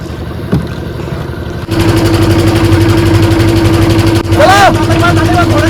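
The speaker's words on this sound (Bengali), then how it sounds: "বড় বোটটা আসছে" A large boat's engine drones on a river, loud and steady with a low idling rumble, joined by a brief whooshing sweep near the end; people talk over it.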